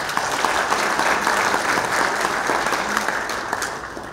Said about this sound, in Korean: 다시 한번 큰 박수로 참석하신 예비를 환영해 주시기 바랍니다.